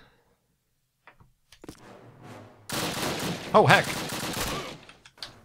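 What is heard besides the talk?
rifle gunfire from the video game Call of Duty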